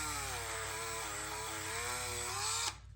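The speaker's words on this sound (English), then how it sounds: "use the Dremel with the felt wheel burnisher that I showed you in one of my tips videos, and then just go all the way around" A Dremel fitted with a felt wheel burnishes the edges of a leather belt, a steady high-pitched rotary whine that wavers slightly under load before cutting off sharply near the end.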